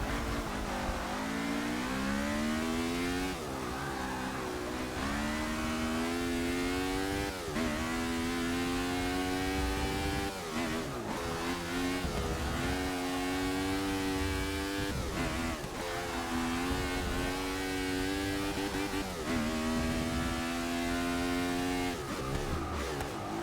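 A racing car in Forza Motorsport 6 revs hard, its engine pitch climbing through several gears with brief drops at each shift, loud and continuous without any talking.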